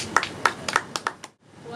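A small audience at a rooftop cultural performance claps, giving a handful of scattered, close hand claps in a loose rhythm that fades out into quiet.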